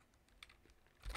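Quiet keystrokes on a Chromebook keyboard, a quick uneven run of taps while a terminal command is typed, ending in a slightly harder press, with no voices.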